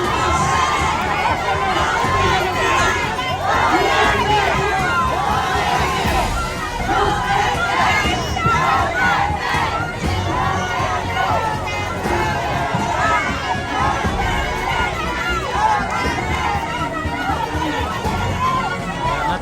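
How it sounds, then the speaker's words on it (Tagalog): A large crowd of political supporters at an outdoor rally shouts and cheers continuously, a dense, loud roar of overlapping voices with chatter mixed in. "Sigaw yan, no?"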